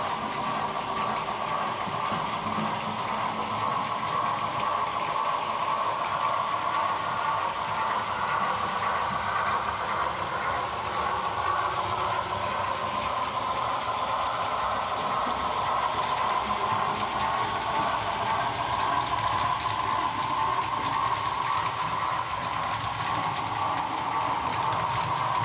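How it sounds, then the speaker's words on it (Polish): A steady mechanical running hum with a faint rhythmic rattle, an H0-scale Piko model locomotive rolling continuously along its track on a layout, close and even throughout. "Także teraz lokomotywa powinna wjechać na ten środkowy peron."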